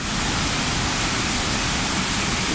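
Yerköprü waterfall in Hadim, Konya, roaring as a steady, dense broadband rush of falling water, loud and close, continuous throughout with no talk over it.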